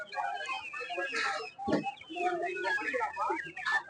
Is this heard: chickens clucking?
yes